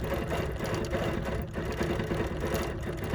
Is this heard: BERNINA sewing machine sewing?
yes